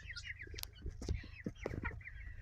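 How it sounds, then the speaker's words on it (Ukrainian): Bantam hens and a rooster cluck softly and repeatedly nearby, with short overlapping calls over a low outdoor background murmur. "Бентамочки. Просили показати бентамочки."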